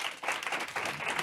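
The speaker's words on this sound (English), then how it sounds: "Let's give them a round of applause." Short burst of applause, many hands clapping together in a dense, even patter that stays fairly soft and distant.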